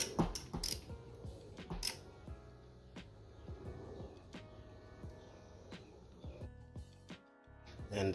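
Bolts being loosened from the reverse idler gear bracket on a 2005 Ford Focus ST transmission, giving near, irregular metallic ratcheting clicks and creaks with sharp taps, close and fairly quiet, with no talk.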